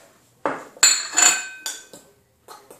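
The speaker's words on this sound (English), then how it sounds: "just take that out of the microwave" A few clinks and clatters of a ceramic mug being taken out of a microwave and set down, close by, with short bright knocks and pauses between them.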